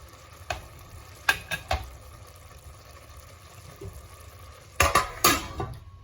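Veg biryani cooking with ghee in a pot on the stove gives a faint, steady sizzle, broken by a few sharp, close clinks of a utensil against the pot.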